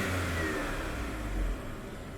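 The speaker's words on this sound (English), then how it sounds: "So you can really hear the induction kit on this engine." Vauxhall Vectra GSI with a 2.5 V6 and an aftermarket induction kit revving steadily, a loud, close, continuous engine drone with a deep low rumble and a swell of intake noise throughout.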